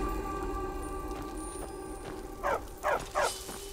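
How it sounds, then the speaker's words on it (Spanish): Dogs in Skyrim bark three times in quick succession, sharp mid-distance yelps rising over a low droning background of game ambience and music. "¿Eran perros?"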